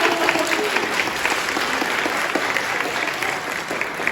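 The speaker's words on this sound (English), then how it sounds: "give a big round of applause" Steady, dense applause from an audience at a children's summer musical production of Cinderella, a full room clapping continuously and loudly throughout.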